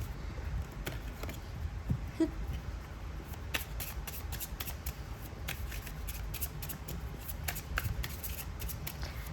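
A new tarot card deck is shuffled by hand close up, giving quick, soft riffling and flicking card sounds in irregular bursts over a quiet background, with no talking.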